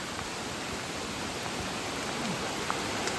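Heavy monsoon rain pours down steadily on a trek near Lonavala, a dense, even hiss with no breaks and no voices.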